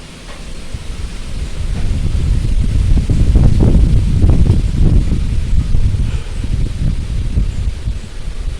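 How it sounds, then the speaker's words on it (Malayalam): Strong gusty wind blows outdoors in open country, a loud, continuous low roar that swells toward the middle and stays steady to the end, with no voices. "നല്ല ശക്തിയായിട്ട് കാറ്റ് വീശുന്നുണ്ട്"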